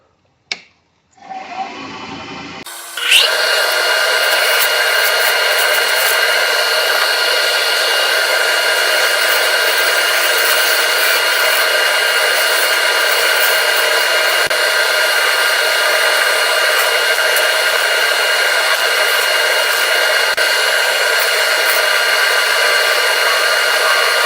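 A segmented bespoke fountain pen part is shaped on a lathe, a steady loud whirring drone with a high whine that starts after a brief clatter and runs unbroken to the end.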